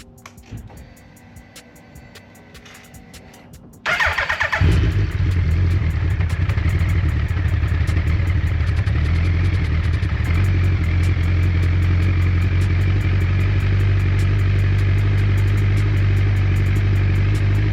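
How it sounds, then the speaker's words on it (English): A 2008 Suzuki Hayabusa motorcycle cold-starts after a few seconds of quiet clatter, then settles into a loud, steady idle that runs close and unbroken for the rest of the clip. "Let's try to get a cold start again."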